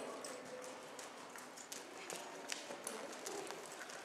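Horse hooves fall in a soft, faint rhythm on an arena surface as a horse is held on a circle during a riding lesson, with light scattered taps over a steady hiss.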